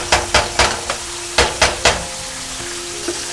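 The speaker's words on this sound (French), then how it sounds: "Laissez mijoter le temps que l'huile et le cube magique rentrent et donnent un goût succulent." Oil and a seasoning cube in a pan for alloco, with a steady sizzle under a series of sharp scraping or tapping strokes from stirring, several quick hits close together, then a calmer simmering hiss.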